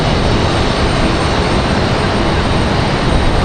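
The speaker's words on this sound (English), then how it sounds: "That 757 getting ready for their departure." A Boeing 757 airliner at Raleigh-Durham International readies for departure, its engines producing a loud, steady broadband roar that holds evenly throughout with no voices.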